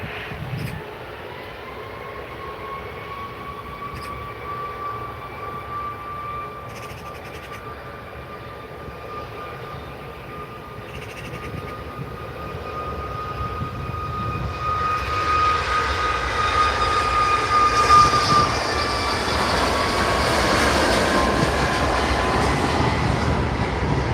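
Sun Express Boeing 737 MAX 8 jet departing Manchester Airport runway 23L, a sustained engine whine with a steady tone, the broad roar swelling louder toward the end as the aircraft passes at a distance.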